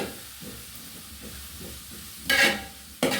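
Eight medium onions sauté in a pan for a boti curry, hissing softly under light stirring, then flaring into two louder bursts of sizzle near the end.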